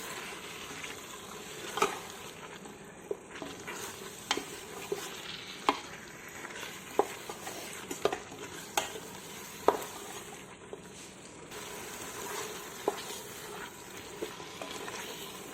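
Curry leaves being stirred and sautéed in a pan for chicken biryani, heard as a soft steady sizzle with regular sharp spoon clicks and scrapes against the pan, close and unhurried, with no talking.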